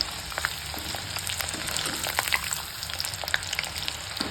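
Bitter gourd frying in hot oil with garlic sizzles steadily, a soft crackling hiss with scattered pops and spatters, close and quiet, with no talking.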